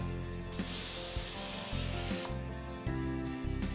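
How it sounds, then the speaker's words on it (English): A continuous hiss of cooking oil spray coats plastic wrap in a kitchen, lasting under two seconds between quieter background sounds and handling noise. "I'm gonna have Jackie hold that up while I spray."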